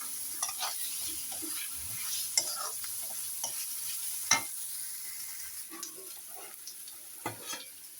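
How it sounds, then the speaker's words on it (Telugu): Meal maker soya chunks stir-fried in a pan, a soft continuous sizzle broken by repeated scrapes and taps of a utensil against the pan at irregular intervals. "ఇప్పుడు మనం మీల్ మేకర్ ఇందులో వేసేసుకుందామండి."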